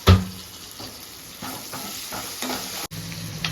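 Onion and okra fry in a pan for a Telugu okra pulusu, giving a steady close sizzle with occasional stirring scrapes and a sharp clatter at the start.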